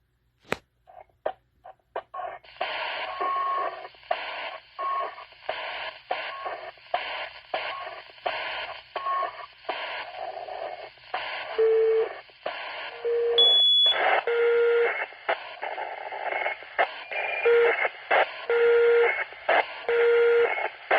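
A radio scanner hisses with squelch, broken by a series of short electronic beeps and tones at varying pitches.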